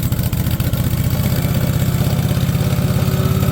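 A small engine on a conveyor, started with choke, idles loudly and steadily nearby, a continuous low rumbling putter with even rapid pulses and no talking.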